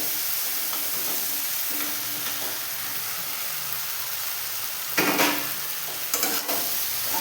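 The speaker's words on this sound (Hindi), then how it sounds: "अब हम सारे मसाले और भिंडी को एक साथ मिलाएंगे" Fried okra stirred into sizzling tomato masala in a pan, a steady close frying hiss with brief scraping stirs around the middle and near the end, no talking.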